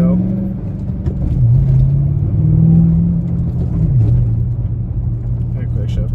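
A 3V Mustang engine with a Pypes Violator axle-back exhaust rumbles deep and steady, its pitch lifting and dropping in a few gentle revs over about six seconds, close and fairly loud.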